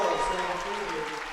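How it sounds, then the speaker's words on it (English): At a boys' high school basketball playoff game, the gym crowd applauds a substituted player with a brief, steady wash of clapping under a commentator's talk. "he'll get a round of applause"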